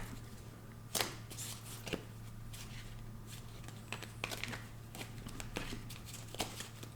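Tarot cards are shuffled by hand at close range, soft riffling and slapping taps repeating in uneven bursts over a low steady hum, quiet and without talk.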